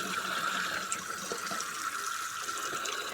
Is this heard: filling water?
yes